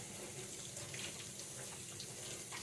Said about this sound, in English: pour a little bit of the juice on there